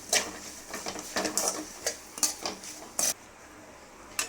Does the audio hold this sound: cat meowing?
no